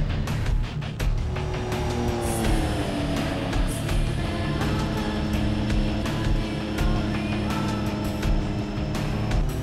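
A powerful car engine of about 650 horsepower drones loudly and continuously, with a steady, rich tone and small shifts in pitch throughout, and no talk.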